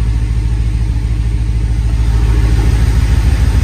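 A BMW 750Li engine runs steadily on its first start, a continuous low rumble with a smooth, even idle throughout, close and loud with no voices.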